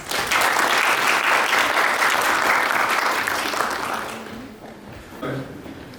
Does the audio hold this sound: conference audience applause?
yes